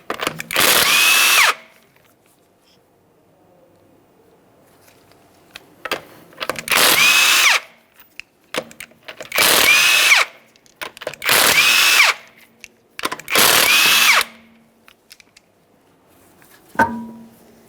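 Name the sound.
power tool removing 19mm lug nuts from Honda Civic wheel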